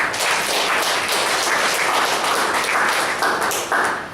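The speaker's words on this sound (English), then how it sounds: "Good round of applause to both the evaluator as well as the speaker" A roomful of people at a Toastmasters evaluation session claps for an evaluator and speaker, a loud, sustained, even applause that carries through to the end.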